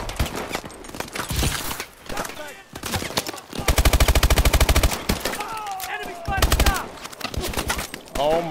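Automatic gunfire in Call of Duty: Advanced Warfare, played on Veteran difficulty in the Traffic mission: loud, close bursts of rapid shots that come in repeated volleys, mixed with scattered single cracks and game effects.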